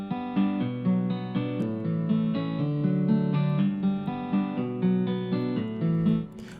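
MusicLab's Real Guitar 3 plugin in pattern mode arpeggiates guitar chords in a quick, steady rolling rhythm of plucked notes, continuous and fairly loud, with no one speaking.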